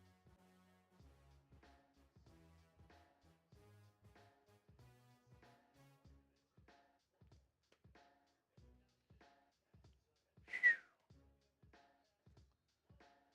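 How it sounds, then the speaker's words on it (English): During an NFL game between the Dolphins and the Bears, a referee's whistle gives one short, sharp blast over a quiet, faintly ticking background. "Sounds like whistle was blown and play is resumed."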